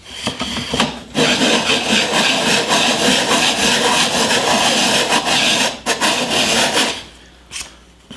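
Hand-powered disk sander grinding a bevel onto the edge of a wooden piece, producing a loud, continuous coarse rasping that surges and briefly dips before trailing off into quieter rubbing.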